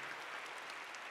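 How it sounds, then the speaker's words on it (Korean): Choir members in a church clap together after an Easter cantata, a brief, even wash of many hands applauding at a distance, soft and unbroken. "일단 성가대원들 박수와 좀 하십시다"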